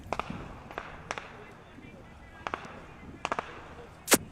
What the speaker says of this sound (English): you may hear the fireworks going off in the background